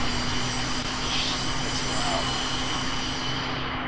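A fighter jet's auxiliary power unit spools up in the F/A-26B of the VTOL VR flight game, a loud steady whine and rumble filling the cockpit without pause.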